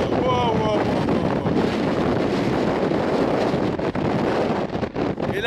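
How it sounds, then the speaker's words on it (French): Strong wind buffets the microphone at a mountain summit near a lake, a loud, constant roaring gust that dips briefly near the end. "Ce vent. Allez, vous devez l'entendre là, je laisse un petit peu de bruit."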